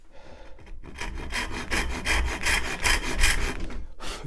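A hand saw cuts through pallet wood in quick rhythmic strokes, a raspy back-and-forth scraping close to the listener, with no talking.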